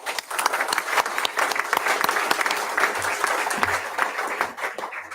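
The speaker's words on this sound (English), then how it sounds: "I ask you to give your applause to these folks" Audience applause at the Variety Care Britton Health Center ribbon cutting and building dedication ceremony, dense steady clapping from a sizable crowd filling several seconds before tapering off at the end.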